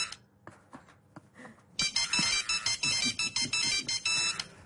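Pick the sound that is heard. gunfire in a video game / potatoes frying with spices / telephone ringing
telephone ringing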